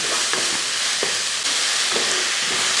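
Onions stirred in a pan for a duck curry, a steady sizzle under a few soft scraping strokes of the spoon, close and even throughout with no talking.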